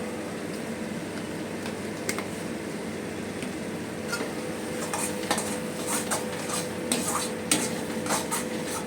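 Spice paste for a vegetarian potato curry cooking down in a pan, a steady sizzle under repeated metallic clinks and scrapes of a spoon stirring against the pan, close and busier toward the end.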